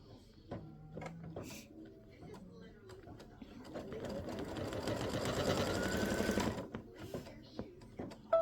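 Home embroidery machine stitching down the backing of an in-the-hoop stand or hanging display: a quiet, rapid whirring stitch that builds into a sustained mechanical buzz near the end, with faint clicks before it.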